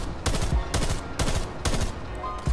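Gunfire from an AUG rifle in Call of Duty: Black Ops Cold War comes in four evenly spaced short bursts, sharp and fairly close, with no other sound between them.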